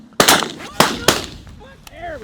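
Shotgun blasts during a late-season goose hunt: three sharp, loud reports in quick succession, each with a short echoing decay, followed by faint goose or duck calls in the open air.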